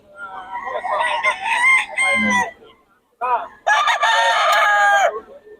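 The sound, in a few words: roosters crowing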